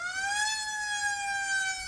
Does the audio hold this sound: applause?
no